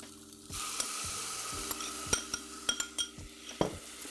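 Fig jam drops into a pan of browned, crispy shallots, setting off a steady sizzle with a louder burst partway through, then clinks and scrapes of a utensil stirring against the pan.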